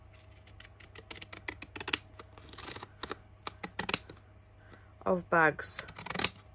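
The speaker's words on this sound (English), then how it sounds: "I think these are called pinking shears" Pinking shears cut through Amazon packaging bags in a run of quick, crisp snips and crunches near the microphone, with brief talk in between.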